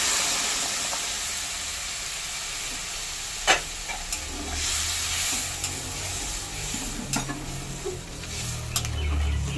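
Hot water poured into a pan of jackfruit curry, setting off a steady sizzling, steamy hiss with a few sharp clinks and stirring scrapes of utensils against the pan, and no talk.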